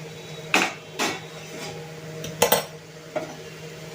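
Metal lid taken off a pan of frying potatoes: a series of sharp clanks and clinks spaced out over a few seconds, over a quiet background hum.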